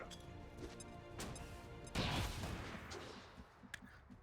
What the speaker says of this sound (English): I'd rather use an AP grenade right now and save the burn for potentially the next pod.